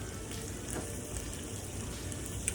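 Pork belly caramelizing in a pan for a Hmong pork and ginger stir fry, giving a steady, even sizzle and crackle throughout, with no voices.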